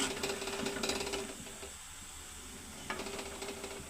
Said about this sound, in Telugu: ఆనియన్స్ వద్ది కోసుకుని ఇలా ఎర్రగా వేయించుకుంటే